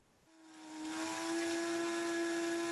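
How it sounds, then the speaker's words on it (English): An electric grinder whirs as it spins up and holds a steady high whine, grinding toasted glutinous rice into powder; close, loud and continuous with no talking. "grind it, and then you've got your own toasted rice powder ready to go"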